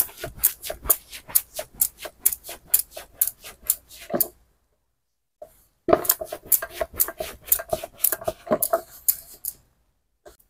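Dough balls rolled flat like rotis with a rolling pin for chicken patties: a rapid series of close, rhythmic wooden knocks and clacks, then a short pause and another faster burst of tapping and rolling, no speech.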